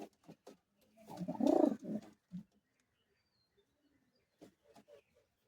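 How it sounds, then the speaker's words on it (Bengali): Madrasi pigeons in a loft give a soft, faint coo, a short burst of low throaty calls followed by a few quieter sounds and near silence. "এটা আমার বন্ধুর পায়রা তোমার কাছে রাখতে দিয়েছে"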